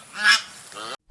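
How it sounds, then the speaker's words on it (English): A swan gives a short honking call, loud and close, rising to a peak early and then trailing off into a softer, fading tail before silence. "Swan."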